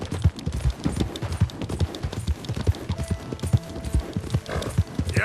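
A horse gallops in Red Dead Redemption 2, its hooves beating in a fast, steady rhythm of heavy thuds over rough ground, loud and close, with no talking.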